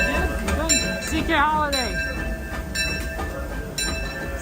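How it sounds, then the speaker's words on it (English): Disneyland park train passing close by with rumbling wheels, squealing metal and clanking cars, mixed with crowd chatter and a voice speaking briefly. "See, I knew there was a train was coming."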